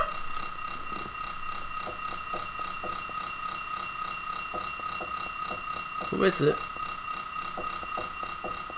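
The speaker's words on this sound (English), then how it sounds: "Oh, that's an alarm clock. Not a phone." An alarm clock rings in the Silent Hill 3 video game, a continuous, loud electronic ringing with a rapid pulsing rhythm throughout, and a person speaks briefly over it.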